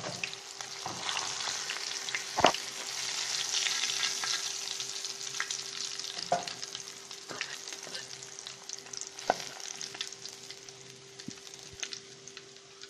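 Herring fry in hot oil in a home kitchen, a steady crackling sizzle with occasional sharper pops and clinks of a utensil stirring, close and continuous with no voices.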